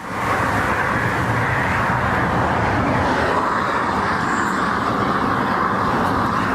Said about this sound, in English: Here comes my first car, and a fast one.